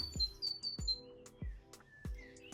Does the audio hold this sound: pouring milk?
no